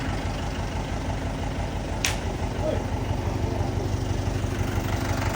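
A tractor engine idles in a village setting, a steady low rumble continuing throughout with a brief sharp noise partway in.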